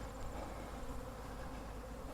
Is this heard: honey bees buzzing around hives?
yes